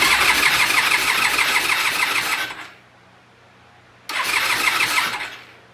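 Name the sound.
Norton motorcycle engine starting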